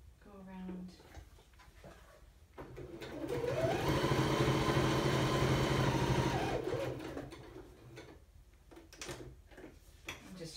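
A home sewing machine runs a straight stitch for about four seconds, a close steady motor hum in the middle, with a person talking and handling paper before and after.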